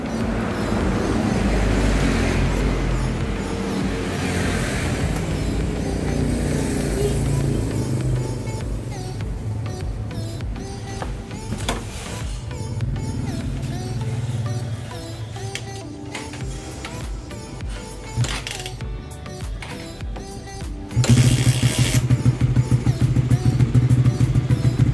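A cold motorcycle engine being kick-started, with continuous mechanical engine noise throughout and a sudden louder, steady running roar near the end as it catches and idles.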